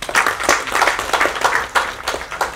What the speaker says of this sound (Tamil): ஸோ அவருக்காக ஒரு கைத்தட்டுங்க.